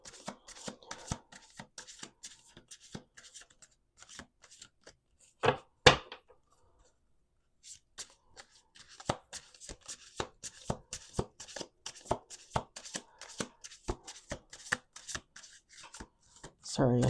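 Tarot cards shuffled by hand in a riffle-and-bridge rhythm, a dense run of crisp slaps and flutters with a brief pause in the middle, close and fairly quiet, with no voices.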